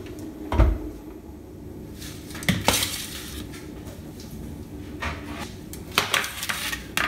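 Oven door handled while chocolate chip cookies go into a 350°F oven: several sharp clunks and rattles of metal and door against a quiet kitchen background, spaced irregularly, with no talking.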